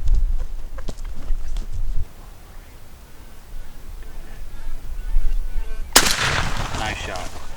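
A shotgun blast on a Rio Grande wild turkey hunt, a single loud crack around six seconds into an outdoor scene with wind, rustling and footsteps, with no talking.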